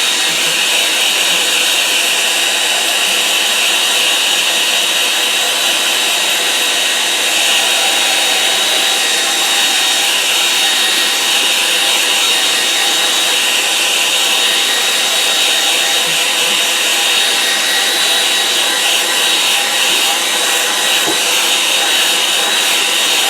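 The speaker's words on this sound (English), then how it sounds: "So, hair dryer." A hair dryer blows over watercolour paint on paper, drying a line-and-wash painting of a flooded field with a loud, steady, close whine and whoosh that runs unbroken throughout, with no voices.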